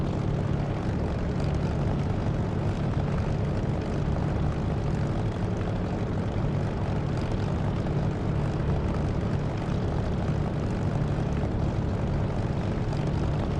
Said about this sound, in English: you notice my engine is barely ticking over, it's only just in the region of 1000 RPM